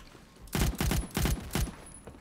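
Four short bursts of automatic gunfire in a video game, each a quick rattling volley, ring out loud and close with brief gaps between them.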